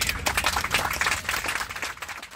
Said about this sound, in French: Des applaudissements pour soutenir les 40 bénévoles de la protection civile